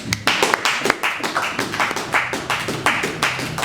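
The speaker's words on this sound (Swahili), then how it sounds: "Makofi tafadhali" A church congregation claps steadily at close range, a dense, continuous patter of many hands with no pauses, voices briefly audible beneath it.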